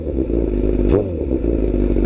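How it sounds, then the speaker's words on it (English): A deep pickup truck engine, a 2019 Chevrolet Silverado, rumbles steadily at idle, with one quick rev swelling and falling back near the middle. "Give you guys a couple revs here."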